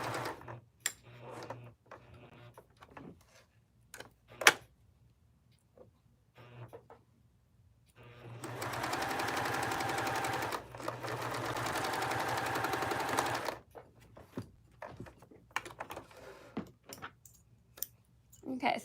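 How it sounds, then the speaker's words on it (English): A sewing machine stitches ribbons onto minky fabric, running in a steady whirring burst of about five seconds between scattered clicks and handling noises. "just be careful as you're sewing those ribbons down, because mine are slipping a little bit against the minky fabric"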